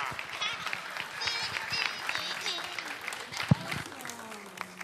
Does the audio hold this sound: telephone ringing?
no